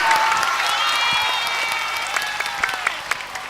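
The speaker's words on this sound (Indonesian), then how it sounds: "Tepuk tangan." Applause from an audience at an evening Islamic study gathering at a pesantren, starting loud and thinning out into scattered claps as it fades.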